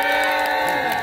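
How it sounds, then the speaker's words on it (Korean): Street busking crowd in Hongdae cheering and whooping in one sustained burst of loud, dense voices, with music tones running underneath. "박수 하나!"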